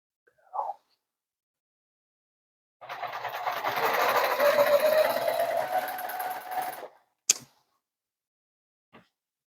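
A sewing machine stitches through the layers of a first quilt in one continuous mechanical run of about four seconds. Short clicks and handling noises come before and after it in an otherwise quiet room.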